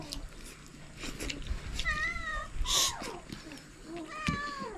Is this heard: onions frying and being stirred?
no